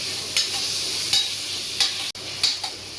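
Tomatoes with salt sauté in a pan for vegetable biryani, a steady close sizzle marked by four evenly spaced spatula strokes against the pan.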